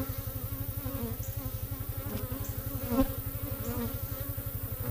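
Honeybees swarm inside a Texas beehive as they attack an intruding spider, making a dense, steady, close-up buzz with a rapid pulsing rhythm throughout and no voices.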